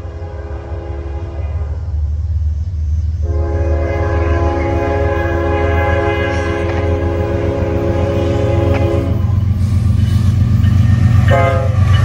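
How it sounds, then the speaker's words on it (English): A Norfolk Southern intermodal freight train rolls steadily past close by, its loud, sustained horn blasting in long blows over the deep rumble of the locomotive and rattling cars. "Been waiting for this train all morning."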